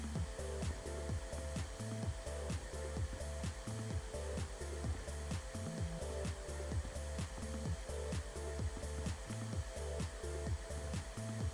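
A vacuum cleaner running in House Flipper 2, a steady loud motor whine with a rhythmic pulsing beat as it sweeps back and forth, continuous and close with no speech.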